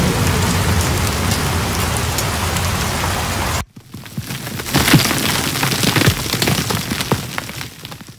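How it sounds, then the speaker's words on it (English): Steady rain on the Green Bridge heist in Payday 2, a dense hiss for the first few seconds, then cutting out briefly before coming back lighter and more scattered, with a few dull thumps. "Greenbridge is one of the first, well, I think only the only heist to actually have rain"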